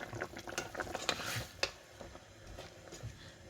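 Ground spice paste is poured into a simmering fish curry and stirred, a quiet series of scraping and clinking ladle strokes against the pot, close but faint, with no voices.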